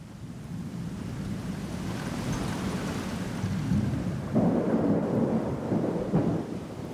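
A thunderstorm rolls with steady heavy rain and deep, continuous rumbling thunder, a broad low roar that swells louder in the second half, with no voices.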